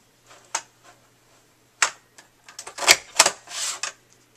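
A Cricut border punch clicks into each groove as it is worked along a scrapbook page, giving a series of sharp, close clicks and taps with short pauses between them.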